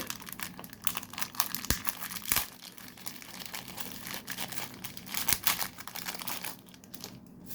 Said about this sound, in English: So let me take it out of this plastic.